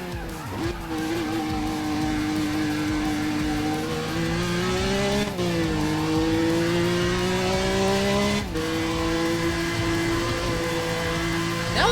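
Race car engine with straight-cut gears in Need for Speed ProStreet, a steady loud whine that rises through the gears with two sharp shift breaks, accompanied by tire squeal.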